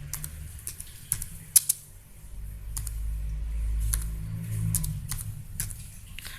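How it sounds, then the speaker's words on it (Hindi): Urdu text being typed on a computer keyboard, with scattered sharp key clicks, some single and some in quick bursts, and a few louder taps, close up over a low steady hum. "और अभी मैं आपको सर्च बार में जाके या कहीं पर भी कमेंट में अगर जाके आपने कुछ टाइप करना है उर्दू में तो वो भी मैं आपको यहाँ पर टाइपिंग करके दिखा देती हूँ।"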